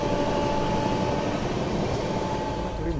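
Express train running on rails, heard from inside as a continuous loud rumble with a faint steady tone and a low rolling rattle throughout.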